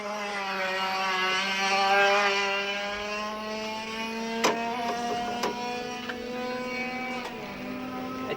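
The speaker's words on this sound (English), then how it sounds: "A specially prepared machine was given the usual Senna inspection before he got ready to climb aboard and give it a run" Specially prepared racing kart engine running: a steady, buzzing drone with a rising and falling pitch, heard at moderate distance, with a few sharp clicks near the end.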